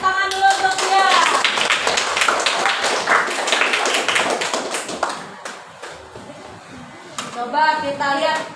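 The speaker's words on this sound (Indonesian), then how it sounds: "Tepuk tangan dulu untuk Bian" A primary school class applauding a classmate called up to the front during a fifth-grade maths lesson, a burst of brisk hand claps that thins out over several seconds, with children's voices and chatter mixed in.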